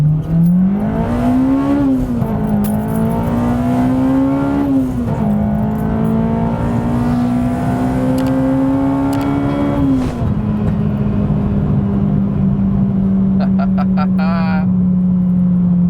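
A Honda Civic Type R EP3 with a Skunk2 intake manifold drives along, its engine droning loudly and rising and falling in pitch through gear changes, with someone talking over it near the end.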